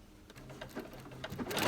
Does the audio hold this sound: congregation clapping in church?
no